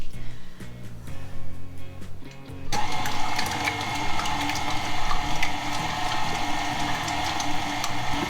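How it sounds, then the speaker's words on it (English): A KitchenAid stand mixer churns vegan ice cream base, starting as a quieter whir and jumping to a loud, steady mechanical hum with a wet, sloshing rattle that runs on continuously. "using my KitchenAid because I love my KitchenAid so much"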